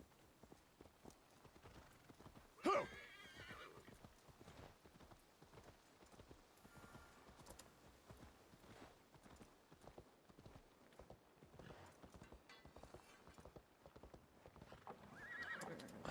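Hooves clip-clop steadily at a gallop in the Assassin's Creed Valhalla video game, with a loud horse whinny near the start; game music and effects run underneath throughout.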